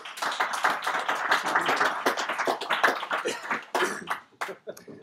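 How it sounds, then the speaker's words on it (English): Scattered hand claps from a modest audience at a tech presentation in Zurich, uneven and fairly close, thinning out toward the end with a few isolated last claps. "A little applause maybe for Sponet"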